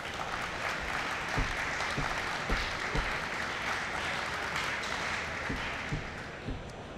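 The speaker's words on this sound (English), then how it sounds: "just give a round of applause to our panel here" An audience at a Grand Prix Chicago 2014 panel session gives a round of applause, a steady wash of clapping with a few sharper individual claps standing out, lasting about seven seconds.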